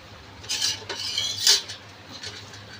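Pasta with green chilies, turmeric and curry leaves stirred in a pan, a few short scraping clinks of a utensil against the metal, close and moderately loud with quiet gaps between strokes.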